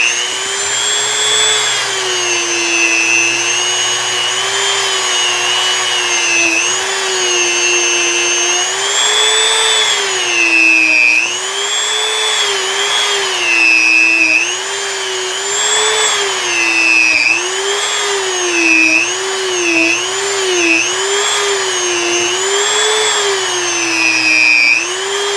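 A polishing tool run at high speed on a 1994 Fender Black Label Telecaster neck, a loud, close, continuous high-pitched motor whine that wavers in pitch as it presses against the frets, with no talking.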